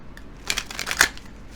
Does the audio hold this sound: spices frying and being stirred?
no